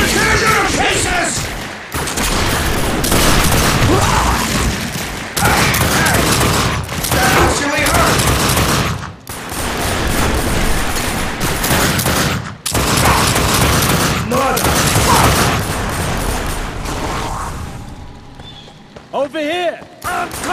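Gunfire in The Darkness 2, with dense bursts of rapid shots and booming impacts in a chaotic firefight, loud and close, broken by brief pauses, while characters shout over the action.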